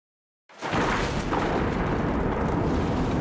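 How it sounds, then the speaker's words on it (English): An oil-filled electrical transformer with an undetected internal fault explodes on being re-energized: a sudden loud, close blast breaks the silence and then roars on as a sustained, rumbling eruption. "The explosion seen here is an example of one of the hazards line workers may face when re-energizing transformers that have an internal fault."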